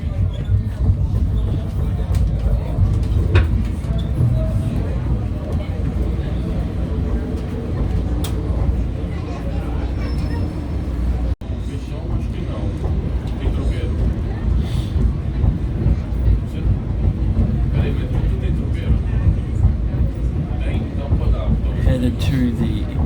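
PATH train running between Journal Square and Harrison toward Newark Penn Station: a steady, loud rumble of wheels and motors throughout, with rattles and a brief dropout midway, no voices clearly standing out.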